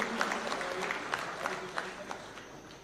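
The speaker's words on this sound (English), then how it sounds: "Let's give them a warm clap as they receive these awards kindly." An audience at a State House awards event in Kenya claps for award recipients, giving steady, moderate applause that sounds somewhat distant and holds evenly for the whole stretch.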